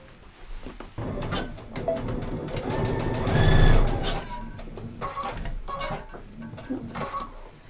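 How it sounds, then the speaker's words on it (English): A sewing machine stitches face mask fabric in short runs, its rapid mechanical whir rising and falling between pauses and light handling clatter. "we're going to take this back to the machine and sew it"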